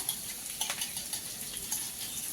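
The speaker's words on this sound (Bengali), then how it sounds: "এই যে এই ঘিটা দিলাম চাউমিন আজকে" Garlic frying in ghee for chowmein, a soft steady sizzle with light stirring and occasional utensil clinks close by, no talk.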